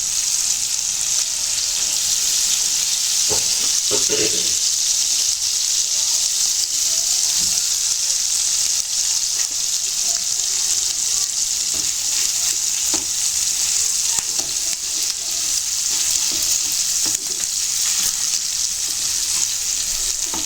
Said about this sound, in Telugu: ముక్కలు వేగాలి కదా ఫ్రై కాబట్టి దాని గురించి ఇలా తిప్పుకోవాలి